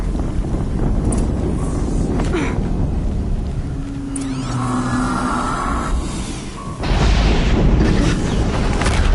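An explosion in the video game Bolts and Boblins sounds as a loud boom over windy rumble, then a brief lull before another strong blast bursts in near the end.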